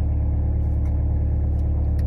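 A car engine idling steadily with the car left running, a constant low rumble close by and unchanging throughout, with no one talking over it.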